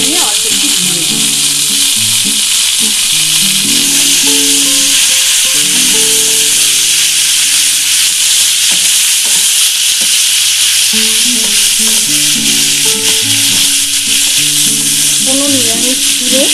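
Vegetable fried rice sizzling loudly in a pan with a little ghee, a bright continuous hiss broken by stirring scrapes, with faint voice-like tones in the background.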